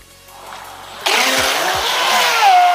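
Radio-controlled Proboat Sonicwake V2 boat motor running on water, a sudden loud high-pitched electric whine that kicks in and holds steady with rushing spray, rising slightly in pitch toward the end.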